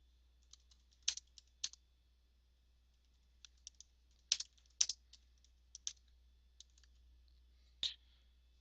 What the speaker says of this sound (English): first thing I'm going to do is I'm going to type